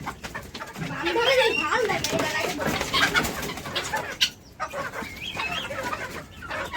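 A hen clucks nervously close by, short repeated calls mixed with other fowl noises while people talk.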